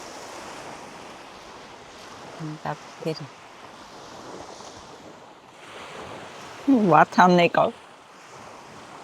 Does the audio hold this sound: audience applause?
no